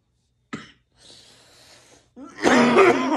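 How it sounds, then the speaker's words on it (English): A sharp cough bursts out, followed by a rasping breath and then a loud, rough fit of coughing, close to the microphone. "I'm already coughing thinking about it."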